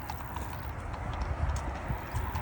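Horse hooves clip-clop in a steady, fairly close rhythm over rustling outdoor background noise, with no speech.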